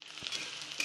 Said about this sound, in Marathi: त्यात आपण असं तेल टाकूया थोडंसं आणि परतून घेऊया.